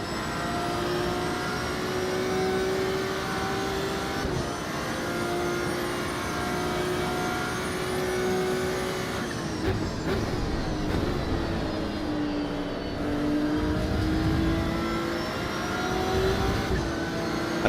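Race car engine in the Assetto Corsa Evo racing game holding a loud, steady high-revving drone with pitch dips at gear shifts and brief lifts, continuous and close, with no voices present.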